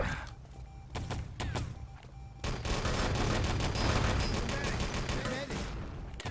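Gunfire in the game Enemy Territory during a competitive match, with scattered single shots followed by dense, continuous rapid fire and overlapping bursts, with commentary voices underneath.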